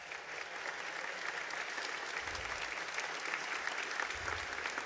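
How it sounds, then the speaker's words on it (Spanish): Sustained applause from a large audience welcoming Ecuador's president Lenín Moreno Garcés at a civic gathering with the Brigada Las Manuelas, steady and dense throughout with brief low thumps. "Lo recibimos con un fuerte aplauso."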